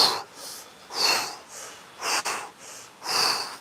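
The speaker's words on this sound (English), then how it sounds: "a couple of forceful exhales as we slowly go back up" Several forceful exhales during a breathing exercise, each a loud breathy whoosh repeated in a steady rhythm about every half second to second, close and alone with no talking.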